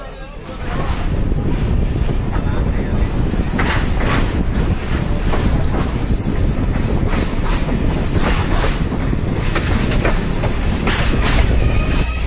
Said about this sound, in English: our train is backed out onto the main track again